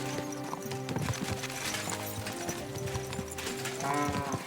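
Horse hooves in Kingdom Come: Deliverance 2, a steady clip-clop under a busy game soundscape with music-like tones, close and continuous.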